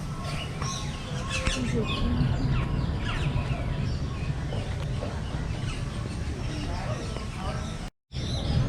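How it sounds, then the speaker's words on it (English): Several birds chirp and call in overlapping bursts around a nearby person talking, with a steady background hum. "You hear all sorts of birds in here."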